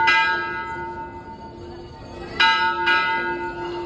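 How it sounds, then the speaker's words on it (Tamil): A temple bell rung during worship, ringing out in sharp metallic strikes with long sustained tones, a fresh strike near the start and two more close together toward the end, layered over a steady hum. "பாருங்க மணி அடிக்கிறாங்க"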